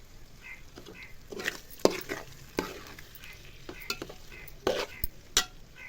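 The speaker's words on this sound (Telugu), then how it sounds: "ఇప్పుడు గుడ్డు ముక్కలు వేసాం కదా, కలుపుకోవాలి" Egg pieces frying in a pan are stirred with a utensil, giving repeated scraping and clinking strokes over a soft, continuous sizzle, close and uneven in rhythm, with no voices.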